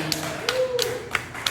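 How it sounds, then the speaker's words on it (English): A few sparse, separate claps ring out from a small audience after a joke at a talk, about five distinct hand claps spaced roughly a third of a second apart, with a faint voice briefly underneath. "Other people can clap if you want to"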